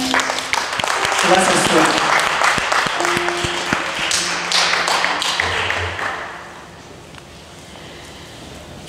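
Church congregation applauding and clapping in a dense, steady burst that fades out toward the end, with a voice speaking over it.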